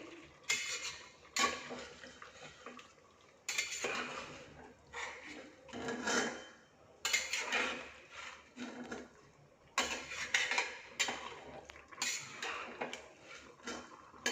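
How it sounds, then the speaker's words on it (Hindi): Mutton being roasted bhuna-style in a pan, heard as repeated bursts of scraping and clattering from a spatula against metal. The bursts come in uneven waves with brief quieter pauses between them, close by and moderately loud, with no talking. "तो हम अपने मटन को 10 से 15 मिनट तक के लिए भूनेंगे।"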